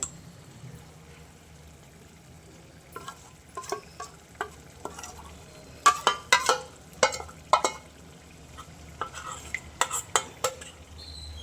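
A spoon stirs yogurt spice masala into a potato gravy for dhaba-style aloo bhuna, with irregular scraping clinks against the pan that grow more frequent, over a faint sizzle.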